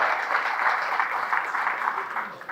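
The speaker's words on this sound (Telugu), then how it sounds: "ఒకసారి బేల నాయకులందరూ కూడా గట్టిగా చప్పట్లు కొట్టాల్సిందిగా" Party leaders at a Congress workers' meeting clap together in a sustained burst of loud applause, dense and steady throughout, with faint voices mixed in.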